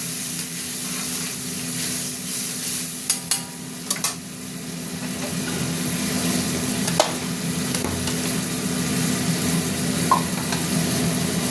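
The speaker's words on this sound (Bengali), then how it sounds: "সামান্য একটু জল দিয়ে মশলাটা কষবো, নাহলে পুড়ে যাবে।" Spice masala being stirred and fried in a pan with a little water for a red egg curry, with a steady sizzle and hiss throughout and a few sharp scraping clicks of the spoon against the pan.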